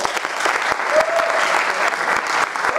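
An audience applauds at a talk on mass media, a steady, dense burst of clapping heard close and alone for a few seconds.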